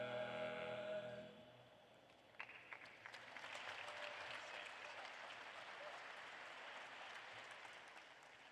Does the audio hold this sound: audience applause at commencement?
yes